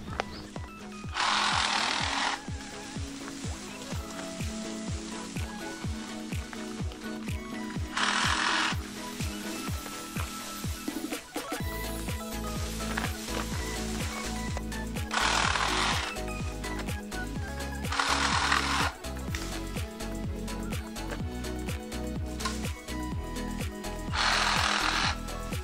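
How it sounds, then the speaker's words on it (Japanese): Reciprocating saw cutting bamboo to length in an abandoned field, heard as a steady buzzing drone with dense rhythmic strokes and repeated louder bursts as the blade bites, close and continuous throughout with background music. "じゃあレシプロソーでいい長さに切っていきます。"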